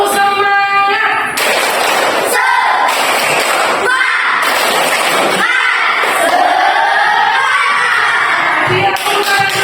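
Children in an elementary classroom perform a group spirit clapping chant before a group task, loud shouting voices with rhythmic claps filling the room, a teacher's voice briefly heard.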